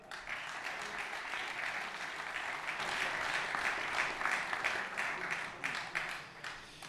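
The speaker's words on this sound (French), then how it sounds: "je vous demande d'applaudir le numéro 3" Stadium crowd applauds steadily as a football player, a midfielder for ESTAC Troyes, is introduced at a title celebration, dense and sustained clapping throughout with a slight swell in the middle.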